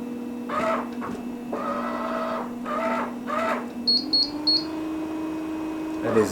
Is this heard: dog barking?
no